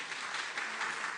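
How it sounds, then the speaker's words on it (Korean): A church congregation applauds together during a Sunday sermon, a brief, steady wash of clapping from a crowd with no voices over it. "박수 치고 싶은 마음 안 드세요?"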